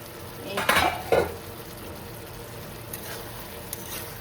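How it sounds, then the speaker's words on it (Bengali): A cooking pot's lid is lifted off, giving two quick metallic clanks close by, followed by a low simmer and a few faint clicks. "এখন ঢাকনাটা নামিয়ে দেখি কেমন হলো।"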